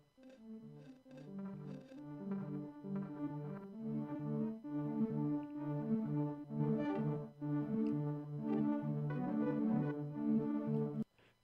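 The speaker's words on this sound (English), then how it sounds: "The sound that sounds like a bunch of weird little, I don't know what you'd call it, fuzzy stereo bits." Sonic Charge synthesis playing a warbling, fuzzy melodic pattern of quick overlapping tones that shift and stutter for about eleven seconds, moderately loud and alone, ending abruptly.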